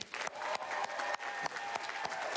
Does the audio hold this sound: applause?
yes